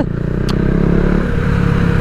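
KTM Duke 250 motorcycle being ridden, its engine droning steadily and close for a couple of seconds with a short clatter near the start.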